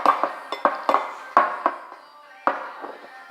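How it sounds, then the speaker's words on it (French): A utensil clinks and taps against a hard container while slime is mixed, a series of sharp close knocks in an irregular rhythm, some louder than others. "Je vais mélanger ça un tout petit peu, là."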